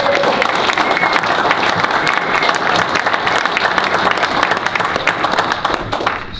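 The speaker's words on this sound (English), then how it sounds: "So I'd like to have some applause for that." An audience at a wrestling shoot interview event claps steadily in a sustained, crackling burst of applause that holds at full strength before easing off at the close.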